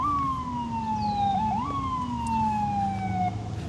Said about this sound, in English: there's going to be an ambulance right when I start recording